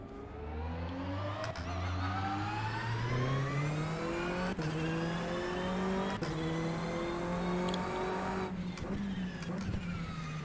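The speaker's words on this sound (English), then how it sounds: "So you'll notice this car will accelerate faster now." A race car in rFactor 2 accelerates hard through several gears, its engine note climbing steadily then dropping sharply at each upshift, loud and continuous with no talk.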